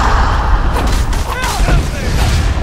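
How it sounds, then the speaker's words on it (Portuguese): A loud explosion in the Skyrim video game bursts out as a dense, booming rumble with heavy low-end thuds that sustain through the whole stretch. "Que explosão doida foi essa?"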